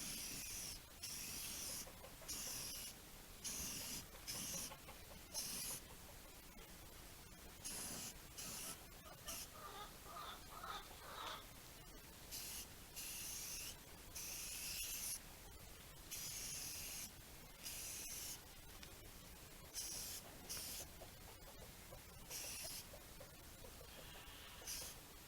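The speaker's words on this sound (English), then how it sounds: "Some rattle can Rust-Oleum." Rust-Oleum rattle can spray paint applied to cleaned, prepped replacement fenders and floorpans on a Jeep CJ5, heard as a series of close, sharp hissing bursts of varying length separated by short pauses.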